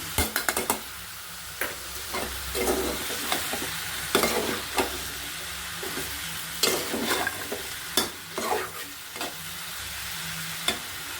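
Chicken meat fries with chili in a pan. A constant sizzle runs underneath while a utensil stirs and scrapes in irregular sharp strokes, close and clear.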